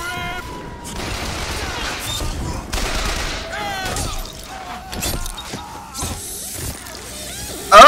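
Machine gun fire in the Bioshock Infinite video game, rattling out in several rapid bursts among other game noises and clatter, with a player talking in between.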